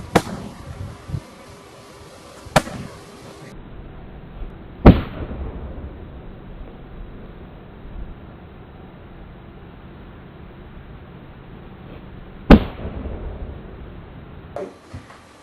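Sharp impacts of a karate roundhouse kick striking a target, comparing Shotokan, Kyokushin and Muay Thai styles: a few isolated loud smacks spaced several seconds apart over a quiet room background.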